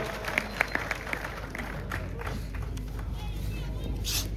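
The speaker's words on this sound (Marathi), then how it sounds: "टाळ्या वाजवा सर्वांनी." Crowd at an outdoor wrestling ground clapping, a broad steady wash of applause with a few sharper claps early, under a voice on a loudspeaker.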